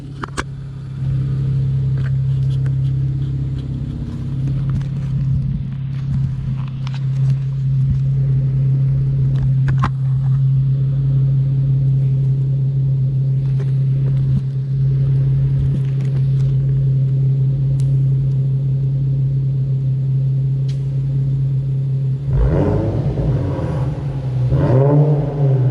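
Infiniti Q50 fitted with Megan Racing downpipes, heard from outside the car: a loud, steady idle drone that holds for a long stretch, then the engine revs sharply near the end with rising, crisp bursts.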